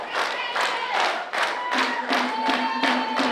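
A wrestling crowd at an NWL show cheers for Davey Vega, filling the arena with loud, continuous noise and steady rhythmic clapping or chanting.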